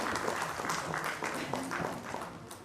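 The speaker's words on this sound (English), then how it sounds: "I think we need to applaud for this collaboration" Crowd applause at a school event, a fairly quiet patter of many hands clapping in a hall, continuous for a few seconds with some background voices.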